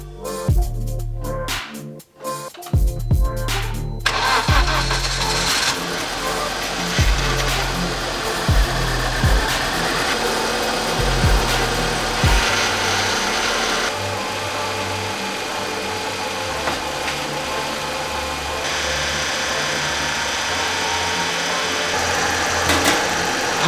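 Swapped BMW N42B20 four-cylinder in an E46 Compact 318ti cranks with choppy pulses, then catches and settles into a steady loud idle that runs on alone.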